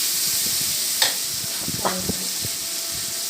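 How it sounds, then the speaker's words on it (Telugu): Curry leaves tossed into a pan of softened tomatoes and onions sizzle and hiss steadily, with a few sharp crackles and the scrape of stirring over the constant frying noise. "కరివేపాకు వేస్తాను కరివేపాకు అలా అలా వేయించాలని"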